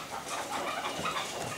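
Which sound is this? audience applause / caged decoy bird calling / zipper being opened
caged decoy bird calling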